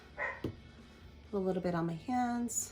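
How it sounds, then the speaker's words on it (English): A pet dog barks a few times in the background of a room, short yips and barks mixed with a woman's nearby speech. "If you hear any barking in the back,"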